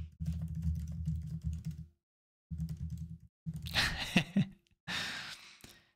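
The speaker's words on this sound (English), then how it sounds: "Let me type that." Rapid, close computer-keyboard typing comes in bursts broken by brief pauses, with a couple of breathy sighs mixed into the later bursts and no spoken words.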